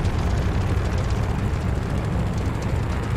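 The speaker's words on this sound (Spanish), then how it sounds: "Muy bien, haz una prueba de motor." A propeller airplane engine roars steadily during an engine test in the video game Call of Duty: Vanguard, a dense, constant rumble with no speech.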